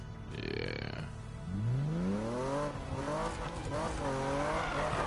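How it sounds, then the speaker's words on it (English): Magnus Walker's Porsche in the 2015 Need for Speed racing game, an engine that revs upward in rising sweeps and then holds a loud, steady drone with gear-shift dips, preceded by a brief squeal. "It's a Magnus Walker's fucking Porsche"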